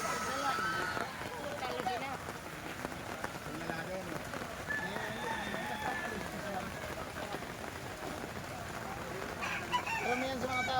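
A Duke Hulsy Lemon gamefowl rooster crows amid the hiss of heavy rain, the call rising over a constant downpour while someone talks nearby.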